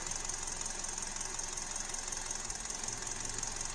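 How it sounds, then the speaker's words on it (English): Hyundai engine misfiring on its number 1 cylinder with a presumed bad ignition coil, heard as a faint, steady idle with an uneven low knocking pulse and a continuous hiss. "We're on the number 1 cylinder, the presumed bad coil. It is misfiring."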